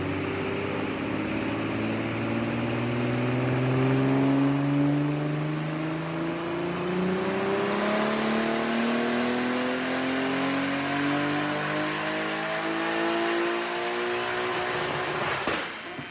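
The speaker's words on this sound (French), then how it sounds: "C'est quand même vachement bruyant une BM Turbo, hein." A loud BMW turbo car engine revs hard and steadily, its pitch climbing over sustained acceleration with a constant roar close by and a brief drop at the very end.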